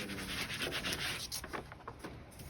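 Vinyl stencil being smoothed by hand onto a wooden sign, giving a series of close, soft rubbing and scraping strokes in an even rhythm.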